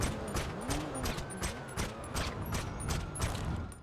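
Suppressed ceramic pistol firing in GTA Online, a steady run of about a dozen muffled, evenly spaced shots over constant game ambience, with no talking.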